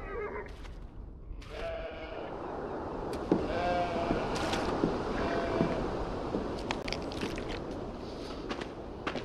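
Sheep bleat in short, mid-pitched calls amid a busy outdoor farm ambience in the Beyond Two Souls video game, several brief calls scattered over steady background noise.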